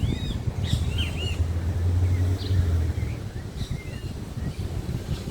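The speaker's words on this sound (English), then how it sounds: "we have the birds singing gently in the trees" Birds chirp and whistle in the trees at an outdoor camp in Belmopan, Belize, their short calls coming moderately distant over a steady cool breeze and a low, rumbling outdoor hum.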